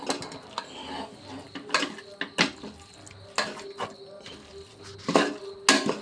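Cooker biryani made with jeerakasala rice being stirred in a metal pot, with repeated sharp scrapes and clanks of the spoon against the pot at an irregular rhythm, close and fairly loud.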